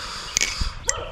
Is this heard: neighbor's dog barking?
yes